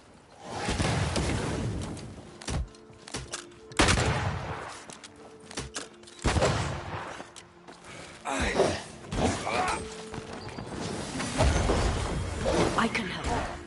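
Bursts of gunfire in the video game Banishers: Ghosts of New Eden, loud, sharp, repeated shots in clustered volleys spread across the stretch, with someone talking between them.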